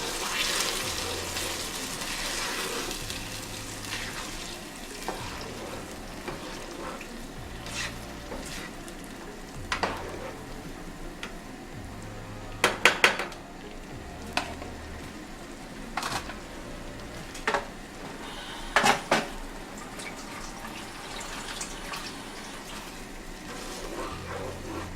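Beaten egg fries and sizzles in a pan for a Nigerian fried egg and plantain breakfast, a steady close-up crackle broken by scattered scraping knocks as it is stirred, with no talking.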